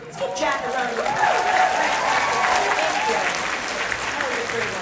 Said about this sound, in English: Let's give Jack a round of applause.